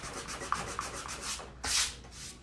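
Sandpaper rubbed by hand over a surface in quick repeated back-and-forth strokes with a few light taps, ending in one longer louder scrape, close and fairly quiet, with no speech.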